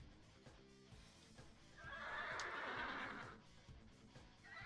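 A horse in Dynasty Warriors 4 lets out a loud, drawn-out neigh lasting about a second, rising above a background of hoofbeats and battle noise, fairly quiet overall.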